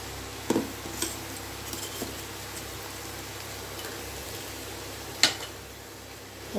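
Vazhakai kootu of cooked raw banana, dal and ground coconut being stirred in a pot, with a quiet steady simmer under a few sharp clinks of the ladle against the metal, near and without talk.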